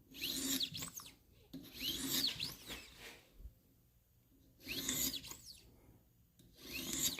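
Damascus pocket knife edge sharpened by hand on a green stone, a series of light rasping strokes in short bursts with pauses between them, quiet and close.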